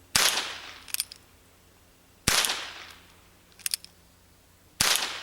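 A Ruger Wrangler revolver fires .22 short rounds outdoors: three sharp, fairly quiet cracks spaced about two seconds apart, each followed by faint clicks of handling.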